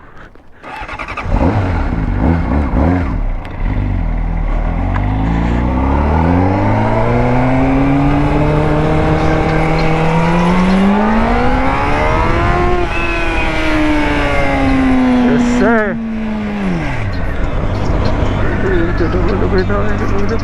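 A motorcycle with a few known faults being ridden, its engine loud and close as it revs and climbs steadily through the rpm range, then drops off near the end, with the rider speaking briefly at the start.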